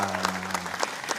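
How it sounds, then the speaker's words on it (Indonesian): Audience at a televised final applauding themselves, a brief burst of dense clapping with a low hum underneath during the first half. "Jadi boleh yang tepuk tangan buat diri sendiri"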